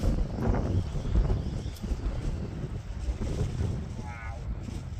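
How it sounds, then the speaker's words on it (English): Strong storm wind roars across a sea breakwater during Storm Isha in Amlwch, UK, a loud continuous buffeting rush with gusty swells and surf-like noise throughout. "Wow, that wind is crazy."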